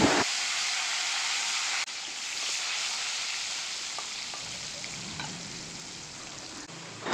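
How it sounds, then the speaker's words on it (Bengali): Dense, steady hiss of potato pieces deep-frying in hot oil, loud and continuous like rushing noise, with faint bubbling pops throughout and no voices. "এই তেলের মধ্যে আমি আলুগুলোকেও কিন্তু ফ্রাই করে নেব।"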